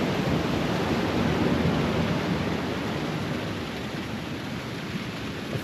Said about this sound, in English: there's a little waterfall coming down to the beach